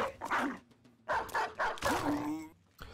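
War dogs in the video game Battle Brothers, barking and yipping in several loud, sharp bursts across a few seconds, with a whimpering tone, mixed among other game sounds.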